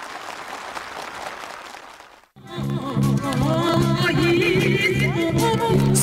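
Warm, sustained applause from a crowd of officials, builders and farm workers at a housing move-in ceremony in Ryanggang Province, rising after a brief dip and continuing loud and steady with music-like tonal sounds mixed in.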